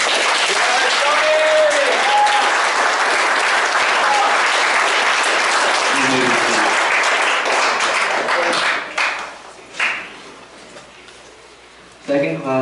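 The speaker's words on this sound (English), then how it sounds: "Let's give this scout a round of applause." Boy Scout troop court of honor audience gives a round of applause for a scout, loud sustained clapping for about eight seconds that fades into scattered claps, with a voice speaking briefly near the end.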